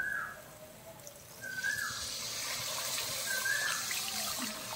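Water pours into a shallot curry cooked with tamarind, a soft steady hiss that starts partway through and keeps going, with faint birds chirping in the background.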